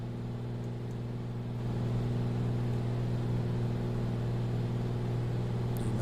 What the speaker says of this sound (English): Listen to that turbo spooling out